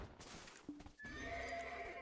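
A horse in a video game gives a loud, close whinny alongside clip-clop hoofbeats over steady game background sound.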